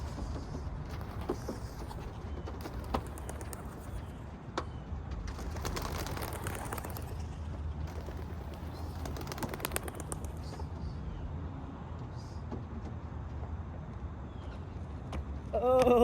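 Racing pigeons at an outdoor pigeon race release, giving soft cooing and fluttering bird sounds at a moderate distance under faint background noise, with a person speaking and a brief louder sound at the very end.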